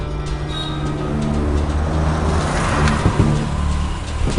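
A car in a Malayalam action-movie scene pulls over to the side of the road, its engine and tyre rumble a loud, continuous, close drone.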